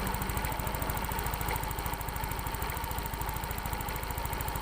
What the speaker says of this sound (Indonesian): Sekarang coba kita matikan mesinnya ini.